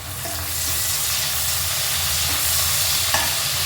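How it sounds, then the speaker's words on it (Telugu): Onions with green chilies and curry leaves frying in hot oil for aloo pulao, giving a steady close sizzle with light stirring throughout and no talking. "ఉల్లిగడ్డ కొంచెం కలర్ మారిన తర్వాత పచ్చిమిర్చి కరివేపాకు"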